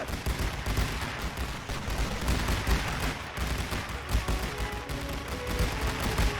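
Troops firing in a First World War trench combat game, an unbroken loud crackle of massed rifle and machine-gun fire with scattered heavier booms.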